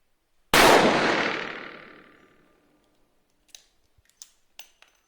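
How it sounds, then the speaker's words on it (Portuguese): A 4-inch .357 Magnum revolver fires CBC semi-jacketed flat-point ammunition at an outdoor range: one loud, sharp report with a long decaying ring, then a few faint clicks and small clatters afterward. "Primeiro tiro vai ser efetuado com o revólver de 4 polegadas, calibre 357 Magnum, munição original CBC, semi-enjaquetada, ponta plana"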